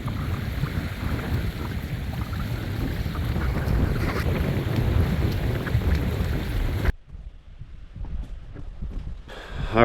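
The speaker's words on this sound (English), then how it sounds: "It's pretty windy." Strong, steady wind blows across an uninhabited island shore, a loud broadband roar buffeting the microphone for most of the stretch, then dropping abruptly to quieter gusts before swelling again at the end.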